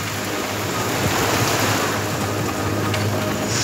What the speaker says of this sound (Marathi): नदीला पूर आलाय